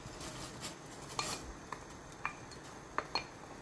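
Okra goes into a simmering cooking pot and is stirred, giving quiet, sparse metallic clinks of a spoon against the pot over a faint low background.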